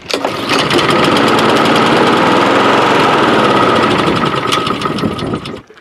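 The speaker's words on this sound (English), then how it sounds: "As you can see, the machine started and died." The engine of a Honda HRS216 snow blower catches after a pull and runs loud, close and rough with a fast pulsing rhythm for about five seconds, then cuts out.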